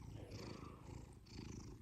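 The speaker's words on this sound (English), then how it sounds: "I've got this cat in my lap" A cat lying in a person's lap purrs softly and steadily in close, low, rumbling waves with no talking.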